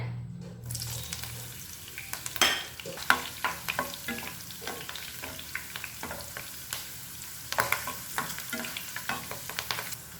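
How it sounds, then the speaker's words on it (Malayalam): Green chillies drop into hot oil for a roadside-style chicken fry, setting off a loud, crackling sizzle with sharp spits and pops that keep going, close by and without talk. "ഇതിലേക്ക് നമുക്ക് പച്ചമുളക് ഇട്ട് കൊടുക്കാം"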